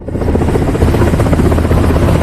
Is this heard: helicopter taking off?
yes